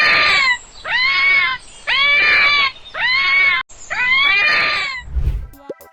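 A red fox gives a series of five loud, harsh screams, each a shrill wavering shriek about half a second to a second long with brief gaps between, followed by a low thump and scraping noise at the end.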